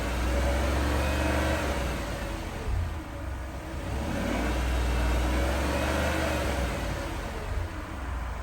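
A 2006 Land Rover Range Rover engine is revved to about 3,000 RPM and held there, a steady close-up hum with slight swells and dips, with no talk.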